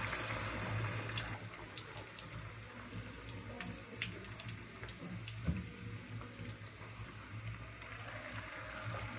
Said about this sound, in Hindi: अब हम एक लेग उठा के इसके अंदर इस तरीके से फ्राई करेंगे